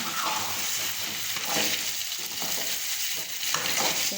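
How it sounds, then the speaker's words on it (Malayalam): An evening snack mixture being stirred in a hot pan, an even sizzle broken by repeated scraping strokes of a spoon, close and steady, no speech. "ഇത് നല്ലോണം ഇളക്കി വെക്കണം"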